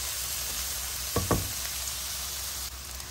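Onion pieces frying in a pan for chole, a steady hissing sizzle with two quick knocks of a utensil against the pan partway through.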